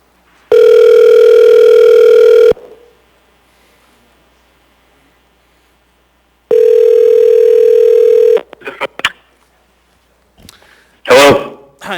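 Two long, loud steady ringback tones on a phone call placed from a municipal assembly meeting, each about two seconds with a pause between, followed by brief clicks and a short burst of line noise.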